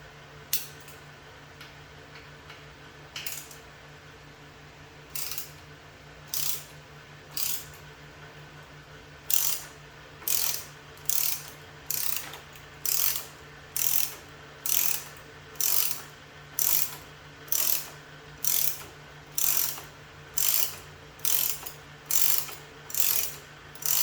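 A hand ratchet loosening nuts while removing parts to fit a luggage rack on a Moto Guzzi V7 Special motorcycle, giving a few sparse clicking bursts and then a long, steady series of rhythmic ratcheting strokes over a low hum.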